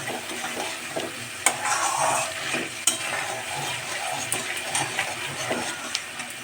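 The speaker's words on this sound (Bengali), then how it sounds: "কাজু বাদাম দেওয়ার পর মশলাটা একটু নাড়তে থাকবেন ঠিক এইভাবে নাড়তে থাকবেন" Masala frying with cashew nuts in a pan for a homestyle mixed vegetable curry, stirred continuously with a dense sizzle and sharp scraping clinks at intervals.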